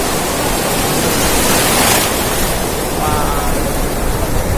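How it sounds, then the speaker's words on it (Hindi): Ocean waves breaking on the shore at Nagaon beach in Alibaug, heard as a loud, continuous broadband wash of surf with a slight swell in the middle and no clear gaps between breakers. "किनारे के बाजू में वो देखो वो बहुत बड़ा लहर है।"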